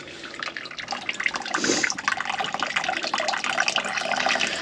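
Water runs through a ball valve into the tank of a ground source heating system, trickling and splashing steadily at close range and growing a little fuller partway through.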